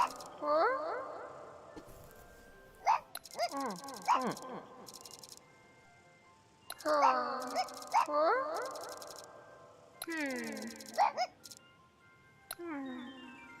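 Cartoonish dog barks and whimpers from the game A Tiny Tale come in bouncy bursts, with springy sound effects between them and a person talking over parts.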